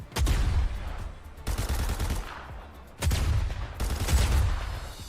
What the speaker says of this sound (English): a developer accidentally added the pump and dump shotgun to Team Rumble